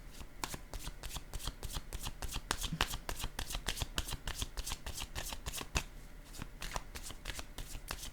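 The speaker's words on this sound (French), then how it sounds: "Je vais déposer une autre carte." Playing cards shuffled and laid down in a quick, steady run of crisp riffles and flicks, close and clear with no talking.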